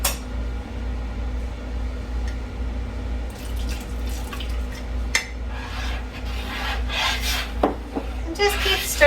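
Strawberry jam with lemon juice being stirred in a pot as it nears a boil, soft scraping and wet bubbling sounds over a low steady hum, close and moderately quiet.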